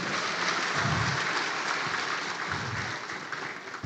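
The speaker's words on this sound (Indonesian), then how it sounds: "tepuk tangan" An audience at a halal bi halal gathering applauds, a steady, loud, continuous roar of clapping that fills the room for several seconds without pause.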